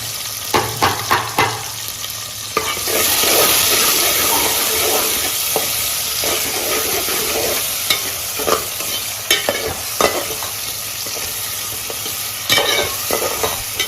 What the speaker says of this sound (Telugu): తరువాత కరివేపాకు, పచ్చిమిరపకాయలు, అల్లం, ఉల్లిపాయలు కూడా వేసి బాగా వేయించుకోవాలి.